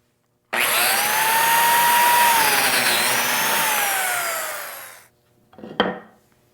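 A biscuit joiner whirs loud and steady as it cuts a slot into a wooden table leg set flat on a board on the bench, winding down after several seconds, followed by a short sharp knock.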